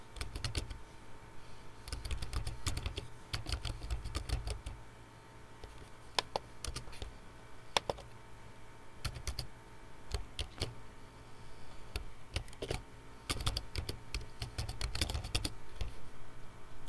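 Someone types an email address on a computer keyboard, producing quick bursts of close, crisp key clicks with short pauses between runs.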